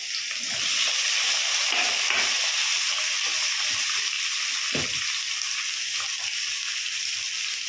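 Potatoes and papaya lightly frying in a pan, a steady dense sizzle and hiss throughout with a few soft stirring scrapes, close and fairly loud, no talk.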